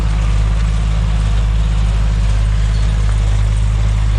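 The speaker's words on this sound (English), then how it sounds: "That's the hay baler." A big tractor drives a hay baler on a farm during harvest, its loud, deep, steady engine drone running throughout with a constant low hum and no talk.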